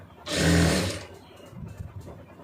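A sewing machine stitching the lining at a blouse armhole runs in one loud, close, whirring burst lasting under a second, then stops and leaves faint handling sounds.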